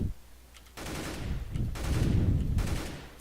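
Rifle gunfire from a competitive shooter game, a few sharp bursts of shots over a low ambient bed, moderately loud and close, with no talk over them.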